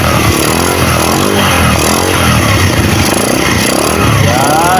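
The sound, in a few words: Honda Wave 100 motorcycle engine running after starting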